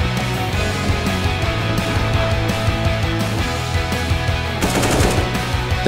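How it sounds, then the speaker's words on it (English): Rapid automatic gunfire crackles nonstop in a competitive first-person shooter match, dense bursts of shots layered over one another, loud and close with a brief sharper volley near the end. "nice shot from TaZ."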